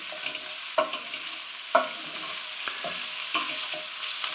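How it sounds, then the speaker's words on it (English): Softening carrots and other vegetables stirred in a pan under a constant soft sizzle, with a handful of clear spoon scrapes and knocks against the pan surfacing at intervals, close and without talk. "I'm just giving it a good stir, just to make sure there's no bits that are sticking."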